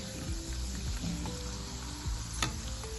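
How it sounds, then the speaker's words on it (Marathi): Sabudana and potato chakli fry in medium-hot oil with a continuous dense bubbling sizzle and a single sharp crackle partway through, close and steady, with no talking. "अगदी छान ही आपली चकली तळून तयार होते"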